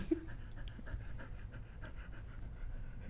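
A dog breathing and panting right on a microphone, close and rhythmic, with quick repeated breaths over a low rumble and no talk.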